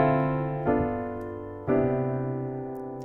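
Piano playing a jazz turnaround progression of seventh chords extended with ninths, three sustained chords struck about a second apart, each ringing and slowly decaying, heard alone.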